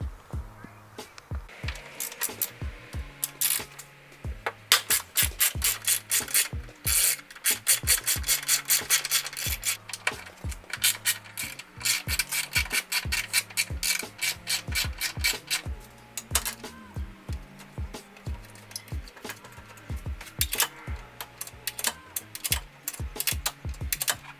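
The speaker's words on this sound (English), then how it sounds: "The next thing we're going to do is remove this screw from the passenger side and the driver's side." A ratchet loosening the hood screws on a Honda S2000 makes dense, rapid rasping clicks in quick bursts throughout, close up, over a steady low background.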